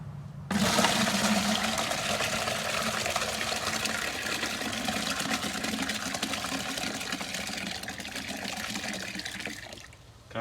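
Grape juice splashes steadily into a food-grade bucket for homemade wine, a continuous close liquid pour lasting about ten seconds before tapering off, with no talk over it.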